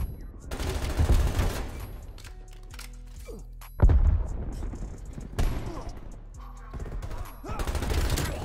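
Shotgun blasts ring out in the Black Ops Cold War video game on PC, several heavy booms spaced a few seconds apart amid other gunfire and mechanical clunks, with no speech over them.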